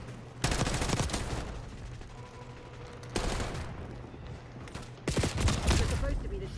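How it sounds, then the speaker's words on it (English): Rapid automatic gunfire tears through a wall in Call of Duty, coming in three sustained bursts of dense shots, loud and close, with players talking between the volleys. "you shoot all through that fucking wall"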